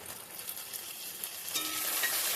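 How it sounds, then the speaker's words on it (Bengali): Steady, hissing sizzle of tomatoes frying in a pan, fairly quiet and continuous, growing slightly louder toward the end. "টমেটোগুলো এখন ভালোভাবে ভেজে নেবে"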